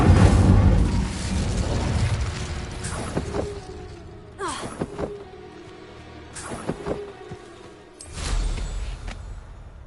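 Incendio fire spell cast in a Harry Potter setting: a loud fiery whoosh and rumble at the start, then several sharp bursts with creaking, crackling tails spaced a couple of seconds apart.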